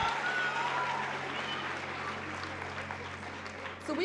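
A crowd at an Urban League live event claps and makes noise in a broad, sustained roar that stays even across the clip, heard at a moderate distance.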